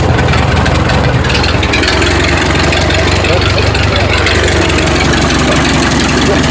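A Ford Model T engine runs loud and close, a steady low rumbling idle with a rough, knocking texture that holds throughout.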